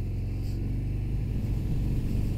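A Harley-Davidson Fat Bob 114 engine idles close by with a deep, steady rumble, and a gentle throttle tap raises it only slightly into a soft rev.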